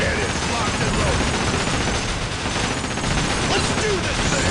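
A pirate ship's cannons in Like a Dragon: Pirate Yakuza fire in a continuous, loud barrage with no real pauses, mixed with thick game music and effects.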